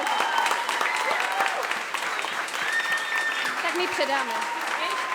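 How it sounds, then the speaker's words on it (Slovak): Audience applause at an outdoor festival celebration in Tvrdonice, a steady dense clapping throughout, with a voice speaking over it near the end. "Ještě jednou potlesk pro Hanku Kobzíkovou za všechno"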